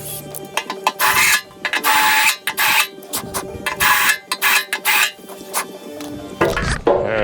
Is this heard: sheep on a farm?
no